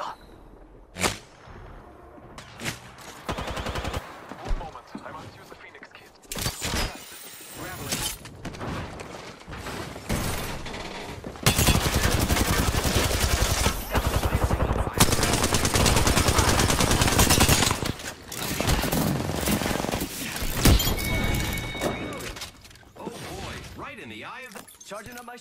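Rapid gunfire bursts and single shots ring out during a battle royale video game match, loud and dense with sharp cracks and mechanical clatter, interleaved with game voice callouts and brief quieter gaps.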